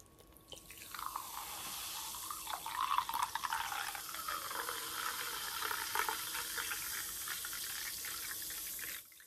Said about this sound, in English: let's pour in a can.